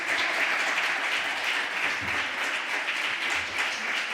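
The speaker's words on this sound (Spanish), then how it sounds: "Un aplauso fuerte, fuerte." Close, loud audience applause at a library event, dense and continuous clapping from many hands that stays at an even level for the whole stretch.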